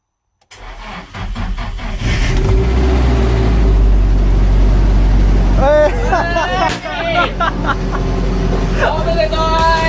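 An amateur-overhauled Nissan SR20 engine cranks and catches, then revs and settles into a loud, rough idle close by, while people talk and call out over it.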